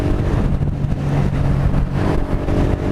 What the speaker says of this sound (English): Did I mention how good this bike sounds for a 125 with the Scorpion can on it?